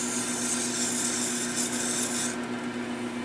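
Wood lathe spinning a pen blank with steady broadband rasping and rubbing of a tool or abrasive against the turning wood, a constant drone underneath, close and continuous with no talk; the high hiss drops away near the end.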